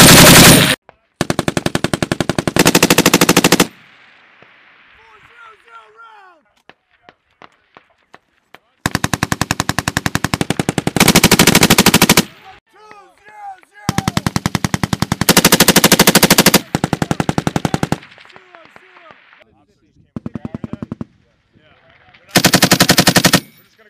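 Loud bursts of machine gun fire at a live-fire military range, several sustained strings of rapid shots separated by quiet gaps, with faint voices in between.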